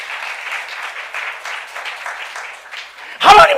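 A church congregation at a youth service applauds in a steady wash of clapping, followed by a sudden loud burst of sound near the end.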